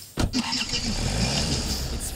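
A car engine in the hunting game Way of the Hunter turns over and settles into a steady running rumble, close and moderately loud, under a man's speech.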